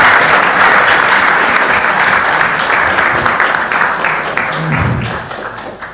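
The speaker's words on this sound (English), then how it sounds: "Thank you very much for the British clap, not the Tibetan one." A large audience claps steadily after a talk on the restful mind, a dense, loud wave of applause that slowly thins toward the end, heard from within the hall.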